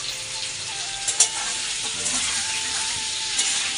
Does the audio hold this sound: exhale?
no